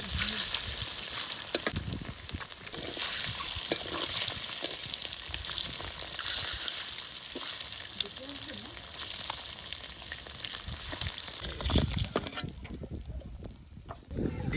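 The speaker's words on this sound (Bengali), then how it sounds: "তার সাথে মাছ ভাজিও করা হচ্ছে।" Fish sizzles as it fries in a pan during village cooking, a loud continuous crackle up close that runs throughout and eases off near the end, with no talking.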